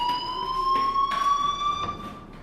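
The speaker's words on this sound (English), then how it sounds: "do you hear that fire alarm? That means you should be outside." A school fire alarm in the video game Life Is Strange rings as a steady high electronic tone with a repeating pulsing rhythm, loud and alone.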